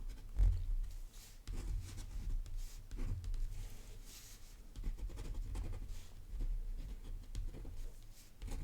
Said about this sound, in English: This nib holds a lot of ink. And you kind of get used to that scratchy sound too.